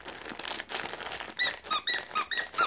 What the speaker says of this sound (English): And that one has a squeak in.